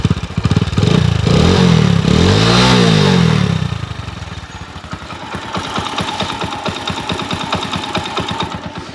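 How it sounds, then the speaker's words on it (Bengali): A second-hand Hero HF Deluxe 100 motorcycle engine in good condition revs up loudly and close, rising and falling in pitch, then settles into a quieter, steady idle chatter. "এবার আপনাদেরকে গাড়ির ইঞ্জিনের সাউন্ডটা"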